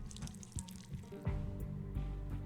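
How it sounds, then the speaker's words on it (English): Water poured into a clay mold in the point-and-click game Whispers of a Machine, a short run of close drips and trickling splashes, fairly quiet and with no voices over it. "I'll go and add some water."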